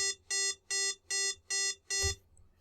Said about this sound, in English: turn on the buzzer, wait, set the time to 200 milliseconds, turn off the buzzer, wait